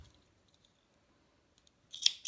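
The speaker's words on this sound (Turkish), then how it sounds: "Şöyle ipini kestim." Scissors snip through the thread on a navy men's sneaker, a quick, close cutting sound at the very end after near silence.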